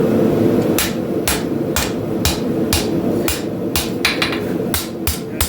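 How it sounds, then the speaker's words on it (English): Steady hammer blows ring out on a forged Hudson Bay camp knife blade being straightened, roughly a dozen sharp metallic strikes in an uneven rhythm over a constant workshop hum, with no talking. "You're hammering on this side. It bows the blade up"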